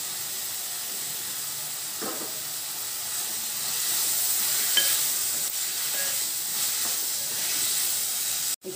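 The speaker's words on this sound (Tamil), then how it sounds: "இதுவும் நல்லா பச்சை வாசனை போக வதக்கிக்கணும்." Ginger garlic paste sautéing in a pan for coconut milk tomato biryani gives a steady close hiss and sizzle, with a few soft scraping stirs and no voices.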